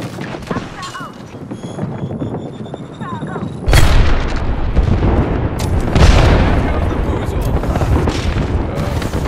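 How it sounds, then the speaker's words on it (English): Airstrike blasts in Apex Legends boom and crackle in a dense, loud barrage of overlapping explosions and gunfire. The chaotic rumble swells partway through and keeps going, with game voices talking under it. "airstrike."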